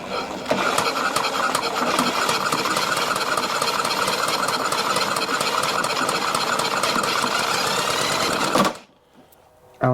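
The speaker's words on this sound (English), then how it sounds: "with the plug out, spin the engine over, and it should arc" A Stihl BR800X backpack blower engine cranked over with the spark plug removed, giving a loud, steady, rapid mechanical whirring and clatter for about nine seconds before cutting off abruptly, with no talk.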